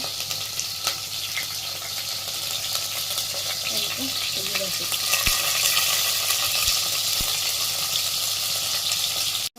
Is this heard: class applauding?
no